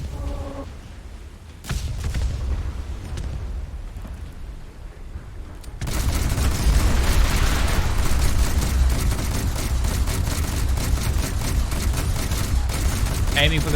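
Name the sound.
naval guns firing in War Thunder video game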